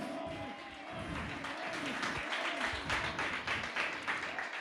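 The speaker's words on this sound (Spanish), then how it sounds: "Dale un aplauso al Señor." A church congregation applauds with sustained, dense clapping from many hands, a fairly loud and even wash of applause lasting throughout.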